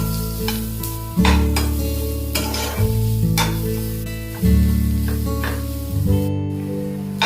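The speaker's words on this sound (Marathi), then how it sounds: "त्यानंतर आता आपण कांदा भाजून घेणार आहोत" Onion roasts in a pan for a Satara-style chicken rassa masala, a steady sizzle broken by several loud scraping stirs at regular intervals, close up with no talking.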